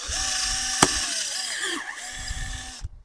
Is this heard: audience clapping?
no